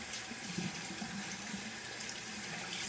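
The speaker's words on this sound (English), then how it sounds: "So now I'm going to try to wash it off." Tap water runs steadily into a sink while a skincare exfoliating scrub with beads is rinsed off skin, a continuous close splash and rush with no talk.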